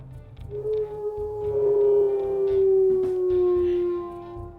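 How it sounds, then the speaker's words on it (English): A wolf in the game WolfQuest gives a long, sustained howl that holds a steady pitch for several seconds, loud and fairly close, with no one speaking. "we'll listen to his howls here"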